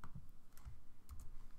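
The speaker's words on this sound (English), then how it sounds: "typing the command and minus key on a Mac or the control and minus key on a PC" Keys clack on a computer keyboard in a quick, uneven run of close, light taps, with no talking.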